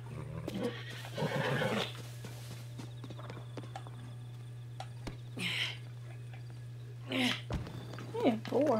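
Horse neighing in Zelda: Tears of the Kingdom, a few whinnies rising out of steady game background hum with clip-clop hooves, while a player talks over parts of it.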